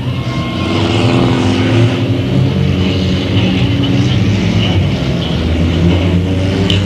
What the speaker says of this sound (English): Next out the speedway for heat race action is the bomber class.